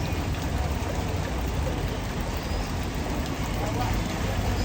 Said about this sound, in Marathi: जोरात पाऊस चालू आहे